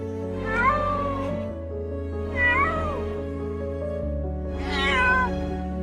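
A cat needing rescue meows three times in a row, loud, close and plaintive, over a steady low hum.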